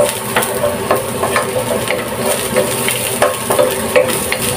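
Garlic sizzles steadily in a hot pan for mussel soup, a dense continuous crackle close up with occasional stirring clicks and no talking.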